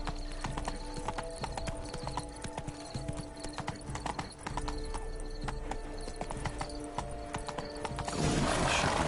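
Horse hooves galloping in the Witcher 3 game, a fast steady clip-clop rhythm with a brief whinny, running continuously under game music and ambience.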